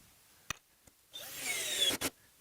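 A power drill drives a screw into a wooden Adirondack chair during assembly, with a couple of light knocks, then a steady rising whir and grinding bite into the wood, ending in two short bursts.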